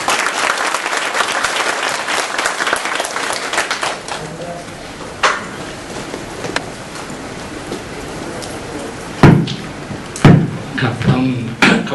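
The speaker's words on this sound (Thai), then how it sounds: "เพราะฉะนั้นขอให้ทุกท่านปรบมือ" Audience applause at a talk event honouring a guest speaker, loud sustained clapping that fades after about four seconds, followed by scattered claps and thumps under a quieter room.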